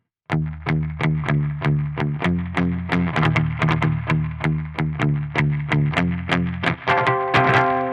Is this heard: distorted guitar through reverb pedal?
yes